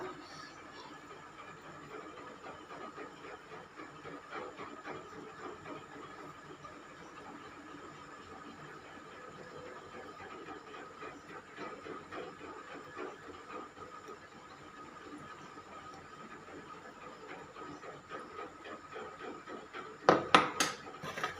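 Chakli frying on medium heat in hot oil, giving a steady, moderately loud bubbling hiss that runs throughout, with a brief burst of clattering near the end.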